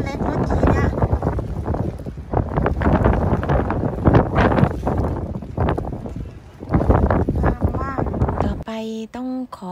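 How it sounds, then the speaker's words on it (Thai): Strong coastal wind batters the microphone with loud, gusting rumble in surges beside the sea-kale shore, while people are heard faintly in the mix and a brief tonal sound ends it. "ต้องขอปิดเสียงนะคะเพราะว่าเสียงลมก็แรงเสียงคนก็ดัง"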